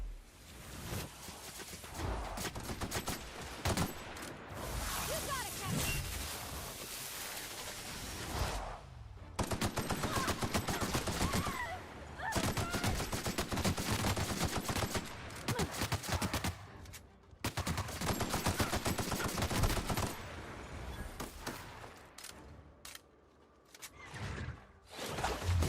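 Rapid gunfire from shooting enemies in a video game, loud sustained machine-gun bursts that rattle on for seconds at a time, broken by brief quiet gaps.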